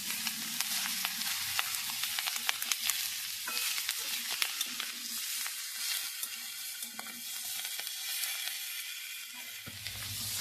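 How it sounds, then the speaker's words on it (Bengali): Cauliflower stems are stirred in a hot pan with salt and turmeric, producing a steady sizzle of frying with frequent scraping and tapping of the spatula, close and fairly quiet, with no voices. "নুন আর হলুদ দিয়ে আবারও আমি ভালো করে নেড়ে নিচ্ছি।"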